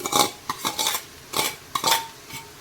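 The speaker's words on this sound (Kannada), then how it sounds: "ಈ ಥರ ಇದರಲ್ಲೀಗ ಮಿಕ್ಸ್ ಮಾಡಿಬಿಡ್ತೇನೆ ಚೆನ್ನಾಗಿ" A metal spoon scrapes and knocks against a pan as mashed potato is mixed for vada pav filling, a series of close, uneven clattering strokes.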